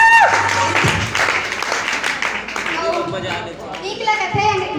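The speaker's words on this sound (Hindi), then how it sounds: "सबसे पहले बजा दो और दोस्त मन पर ताली।" Students clap at a college farewell party, a loose burst of applause among a chattering crowd with young voices talking over it throughout.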